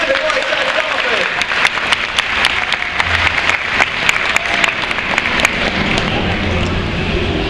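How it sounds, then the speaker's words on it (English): An aquarium audience applauds Pacific white-sided dolphins with loud, sustained clapping and crisp close claps throughout, under an ambient hum of the crowd and venue. "How about a big round of applause for the Pacific white-sided dolphin?"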